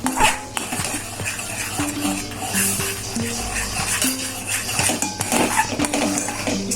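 White sauce for bread pizza is stirred in a pan with a utensil. The clip carries continuous close scraping and clinking of metal against the cookware, with occasional sharper taps, and no voices are heard.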